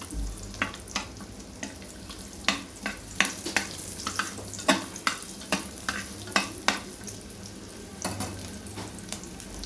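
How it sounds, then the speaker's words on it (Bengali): Garlic fries in a pan with a low sizzle, while a utensil stirs and taps against the pan in a string of sharp, irregular clicks. "এখন দিয়ে দিলাম এদিকে রসুন। দেখেন, এই যে এটা এখন এই যে একটু ভাজে নিব।"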